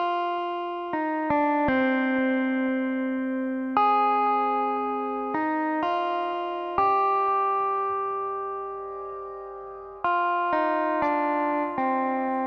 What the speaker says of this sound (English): You can add some granular effects, so let's go for a foggy faint.